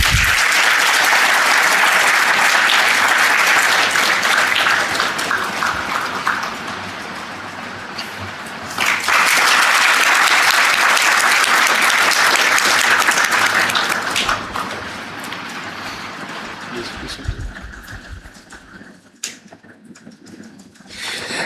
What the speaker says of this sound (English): A round of applause is expected.